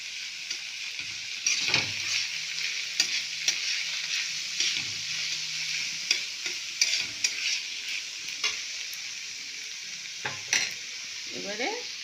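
Soybean paste frying in a pan for masala sabji, a soft continuous sizzle broken by repeated scraping strokes of a spoon stirring, close and steady.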